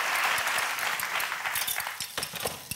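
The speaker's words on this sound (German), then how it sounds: "ich hätte gerne mal einen Applaus für Susanne Fröhlich, weil sie hat die Pfifferlinge im Topf" Studio audience on a German cooking show claps in a lively burst that starts dense and loud, then thins into scattered individual claps.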